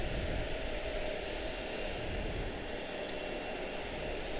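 Aircraft arriving at Charlotte Douglas airport on a Roanoke flight, a steady broadband engine roar with a low rumble, sustained and fairly loud throughout, with no talk over it.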